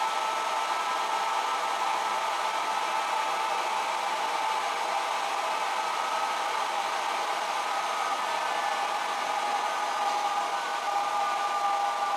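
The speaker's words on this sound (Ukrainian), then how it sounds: "І зараз ще по виходу покажу, як фен регулює на ньому." A hair dryer runs in a steady, unbroken whoosh with its power throttled by a Solar Vampire solar-surplus controller paired with a Deye or PowMr inverter, the airflow hiss holding level throughout without any voices.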